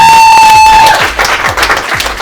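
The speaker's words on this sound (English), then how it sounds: "Can we give him a round of applause?" A seminar audience breaks into applause, and the dense clapping swells in after a brief held tone and continues loudly to the end.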